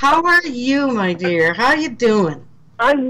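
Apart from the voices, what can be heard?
No everyday noises stand out.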